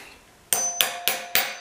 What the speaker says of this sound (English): So you take your hammer